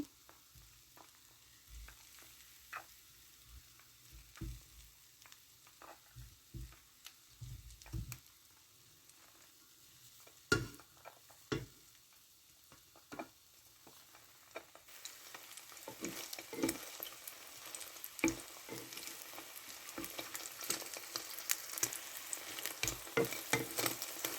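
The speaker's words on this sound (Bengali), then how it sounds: "শুকনো মরিচ ভেজে নিচ্ছি" Dried chillies fry in hot oil, giving a quiet, steady sizzle broken by scattered pops and spatters that grow busier and louder toward the end, with no voices.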